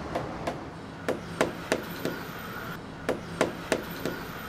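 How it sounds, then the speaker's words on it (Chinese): A wooden mallet knocks on timber to test the soundness of wood in the restoration of a traditional Taiwanese temple; a dozen sharp, hollow knocks in an uneven rhythm, close and distinct against a quiet background. "过去木构造是靠匠师拿着木锤敲打，判定木头的好坏"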